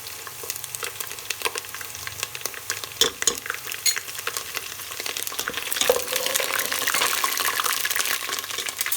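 Ginger garlic paste hitting golden brown onions in a hot pan, with crackling sizzle, sharp spitting pops and a spoon stirring through, busy and close throughout with no talking.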